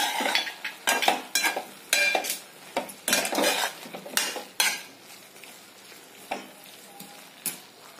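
A spoon mixes salt into a fish mixture in a pan, producing a series of sharp clinks and scrapes in an irregular rhythm, close and moderately loud, with a light sizzle beneath and no talking.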